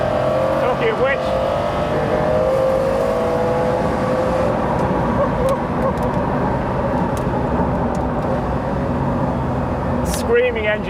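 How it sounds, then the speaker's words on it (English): A Porsche Carrera GT engine screams at high revs, its harmonics climbing and dropping through downshifts, loud and sustained over the whole stretch with a voice talking on top. "the screaming engine in the Carrera GT is just sensational"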